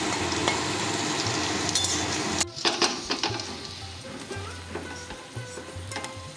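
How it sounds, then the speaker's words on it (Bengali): Okra (bhindi) frying in hot oil for kurkure bhindi, a loud bubbling sizzle that drops abruptly partway through, followed by softer frying and clinks of a utensil against the pan. "বাকি ভেন্ডিগুলো আমি একইভাবে ভেজে নিয়েছি"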